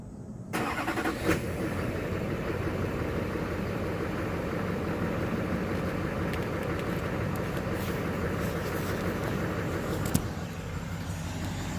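A 2006 Duramax LLY diesel pickup idles steadily up close through an MBRP exhaust, a low continuous rumble with a faint exhaust burble, running evenly without voices.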